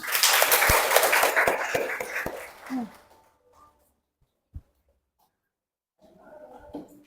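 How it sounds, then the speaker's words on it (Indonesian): A classroom of students applauds a group presentation, loud dense clapping for about three seconds that fades into near silence, with a single knock and faint talk near the end. "silakan tepuk tangan buat kelompok 5"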